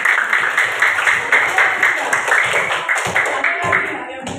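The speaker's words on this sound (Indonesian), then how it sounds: "Oke, tepuk tangan dulu." A classroom of students claps together in an uneven, steady patter that lasts several seconds at close range. Voices mix in with the applause.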